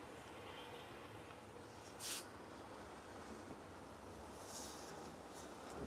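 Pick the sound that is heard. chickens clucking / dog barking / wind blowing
wind blowing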